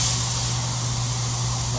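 A SATA spray gun set to 1.0, with the fan about two-thirds open and the air pressure too high, sprays coating in a continuous, loud, steady hiss with a low steady hum beneath it.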